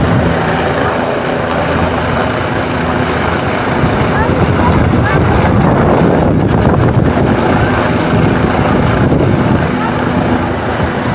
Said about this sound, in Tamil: ஹெலிகாப்டர் கரெக்டா நம்ம தலைக்கு மேல இருக்குங்க.